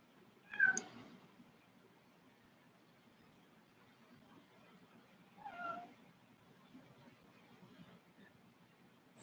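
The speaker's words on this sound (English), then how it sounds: "So that is a neighborhood cat." A neighborhood cat that wandered into a fenced backyard meows twice, a short, clear call near the start and a softer one a few seconds later, with quiet ambient noise in between.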